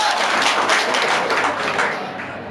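A classroom of students bursts into steady applause for a classmate, a dense patter of many hands clapping close by and continuing throughout.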